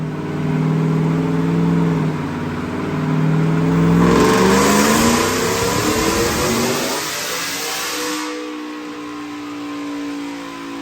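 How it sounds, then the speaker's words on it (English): A supercharged 5.0 V8 in a 2019 Ford F150 with a Whipple blower and Kooks headers roars through a fourth-gear dyno pull, engine note climbing steadily in pitch with rising supercharger whine, then dropping off to a lower idle rumble; loud and close. "check out this dyno pull"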